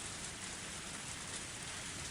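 Heavy torrential rain from the Higurashi visual novel, a dense, steady, loud hiss of downpour pattering on surfaces throughout, with no voices.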